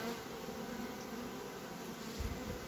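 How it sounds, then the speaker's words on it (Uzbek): Honeybees buzz around a hive as a new queen emerges, a steady close droning hum that runs faint but unbroken throughout. "Mana asalari onarini tug'ilish jarayoni mana shunaqa bo'ladi."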